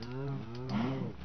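A cow in the video game Minecraft gives a single drawn-out, low, nasal moo, clear and close with no talk over it.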